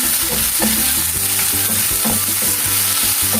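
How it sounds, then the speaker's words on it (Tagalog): Meat frying with garlic, onion and tomato for pinakbet, a loud, dense, steady sizzle close up with faint stirring beneath it, no speech. "Hintayin natin hanggang sa mag-brown-brown yung ating"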